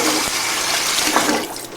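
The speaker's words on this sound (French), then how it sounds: "je fais partir l'eau à l'aide de la passoire" Rinse water from washed couscous pours and drains through a kitchen strainer, a loud, continuous rushing splash that is close by and stays steady for a couple of seconds.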